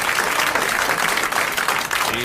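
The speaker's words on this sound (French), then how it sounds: "Dans ces applaudissements qui vous accueillent en fête" A studio audience on a 1981 French television show applauds loudly and continuously, a dense wash of clapping close by for a couple of seconds.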